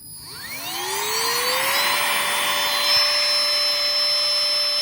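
A small electric air pump motor whirs up in pitch and settles into a steady, loud, high-pitched drone, running continuously nearby while inflating an air mattress.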